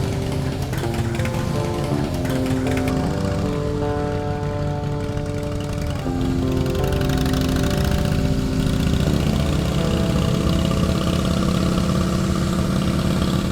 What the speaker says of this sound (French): En Harley, c'est le bruit qui nous sauve